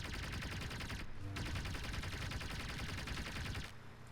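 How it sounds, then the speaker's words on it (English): Reaper guns in Crossout firing nonstop into an Aegis energy shield, a loud dense rattle of rapid shots, a brief break after one second, then more firing that tapers slightly at the end. "we're gonna fire the Reapers into the shield and see how quickly it goes away"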